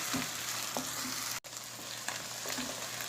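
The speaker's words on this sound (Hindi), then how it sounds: "पाँच से 6 मिनट प्याज़ों को भून लेंगे।" Onions fry in oil for a lauki kofta gravy, giving a constant loud sizzle with soft scraping as they are stirred, with no one speaking.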